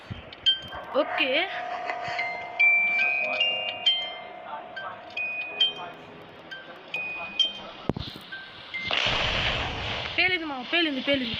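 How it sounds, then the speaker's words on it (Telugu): A sudden explosion bursts out in the Evil Nun video game, a sharp blast late in the stretch amid game sounds and a talking voice. "పేలింది"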